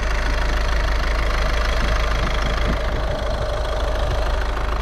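A Volkswagen Polo 1.6 TDI diesel, 90 hp with a 7-speed DSG, idling steadily under the open hood, a close, even diesel clatter and low rumble with no change in pace.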